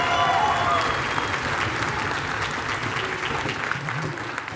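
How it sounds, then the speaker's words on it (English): Audience applauding senior class dancers of the Tlingit Gaawt'aḵ.aan group at the Celebration 2018 gathering in the Centennial Building, a dense, steady wash of clapping from a large crowd throughout, with faint voices mixed in. "So if we could give them all a big round of applause."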